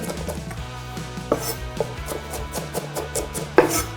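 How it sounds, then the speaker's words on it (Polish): Garlic being finely chopped with a knife on a board, a run of close, irregular taps and scrapes with a few sharper knocks; no voices. "Czosnek kroimy drobno bądź ścieramy na tarce"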